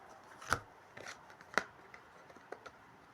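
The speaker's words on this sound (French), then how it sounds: "2 cartes qui se retournent." Tarot cards are flipped over on a table, giving two sharp soft slaps and a few lighter paper taps and shuffles, close and quiet with no talking.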